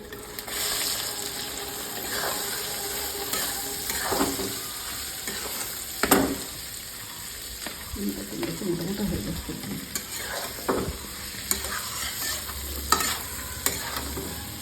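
Mango pieces for chutney cooking in a pan, a continuous soft sizzle with scraping stirring strokes and occasional louder clanks against the pan.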